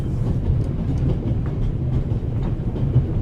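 A train in the video game The Raven Remastered rumbles along steadily, with a low continuous rolling drone and faint rhythmic rail clatter, heard alone.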